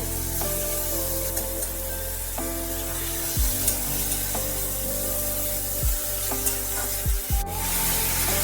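Finely minced chicken cooking in a pan, a continuous close sizzle with occasional spatula scrapes and stirring knocks.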